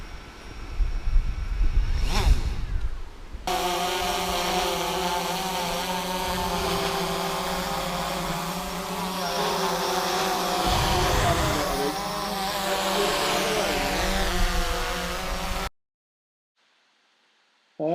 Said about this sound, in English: Daddy's now going to fly his drone over the dams.